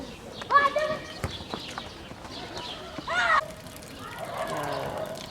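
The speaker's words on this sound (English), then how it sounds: "There's some family cows being brought down." Hooves of family cows being brought down a hillside path near Petrelë Castle in Albania, scattered clopping steps close by, with brief calls and a voice speaking in between.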